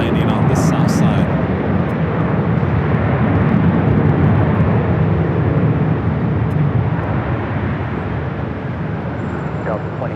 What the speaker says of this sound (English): Hear that Queen landing on the south side.